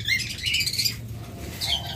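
Two split blue lovebirds chirp in high, bright bursts close by, mixed with quick flutters of flapping wings, with no talking.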